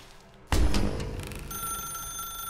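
An old-style ringing telephone in the video game The Stanley Parable, a sudden loud clanging bell ring followed by a sustained electronic ringing tone, alone without voices.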